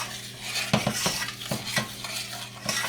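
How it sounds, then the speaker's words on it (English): Spoon stirring a fudge mixture of milk over the heat in a pot, soft repeated scraping strokes against a steady background hiss, close and with no talking. "then you start stirring over the heat"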